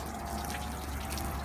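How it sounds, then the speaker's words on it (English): Soft, steady trickle of water running off the side of a Suzuki Jimny JLX during washing, continuous and moderately close with no talking. "It's taking a lot longer for the water to glide off on that side because of the contamination of the build-up"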